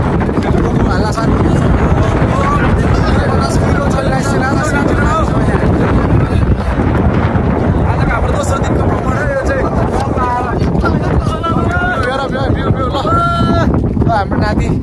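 Strong wind roars across the slopes of Hallasan mountain on Jeju Island, South Korea, buffeting the microphone in a loud, continuous rush while people talk throughout.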